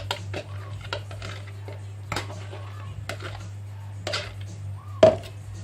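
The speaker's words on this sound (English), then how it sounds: "Mix it about. Just try and combine it all together." Eggs and cottage cheese being mixed in a quiche dish for a slimming-style quiche, with soft scraping and tapping of utensil against the dish at irregular intervals over a steady low hum.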